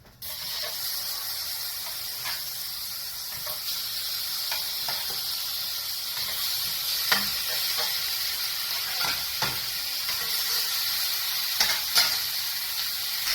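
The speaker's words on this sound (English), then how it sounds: "now all we have to do is fry them up." Potato burgers sizzle steadily in a hot pan, a constant frying hiss with occasional pops and crackles, close up and without talking.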